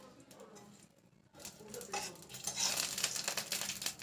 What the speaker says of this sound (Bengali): দেওয়ার পরে আমি একটুখানি নেড়ে নেব।